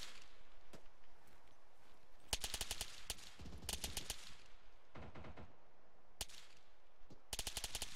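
Bursts of machine-gun and rifle fire from a realism unit's platoon training exercise, several rapid volleys separated by short pauses and scattered single shots, loud and fairly close.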